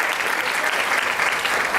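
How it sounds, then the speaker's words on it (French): Audience at a zero waste conference applauding themselves, a dense, steady wash of clapping filling the room without a break. "Et vous pouvez vous applaudir"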